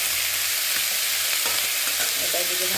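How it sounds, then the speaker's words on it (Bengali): Small kachki fish frying with onions in a pan for a chorchori, a steady close broadband sizzle with occasional stirring scrapes and clicks throughout. "এখানে মাছটা ভাজা হচ্ছে"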